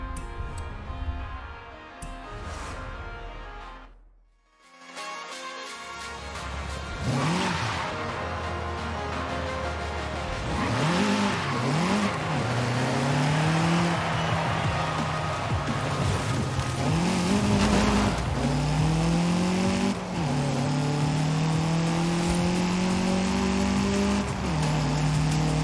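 In Forza Horizon 5, a light car under 600 kilos with 141 kilowatts revs hard after a brief quiet gap, then accelerates through repeated rising gear pulls, loud and close, with no talking.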